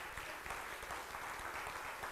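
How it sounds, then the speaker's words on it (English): Church congregation applause fills the room at a Sunday service, steady dense clapping from many hands throughout, moderately loud and without talk. "Give these people a round of applause,"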